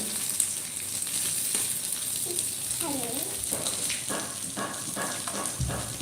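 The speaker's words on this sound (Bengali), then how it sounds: "ভাজা প্রায় হয়ে আসছে" Chhana and potato tikki frying in a pan at home give off a steady, close sizzle with bursts of crackle, and faint voices and a few clinks can be heard in the background.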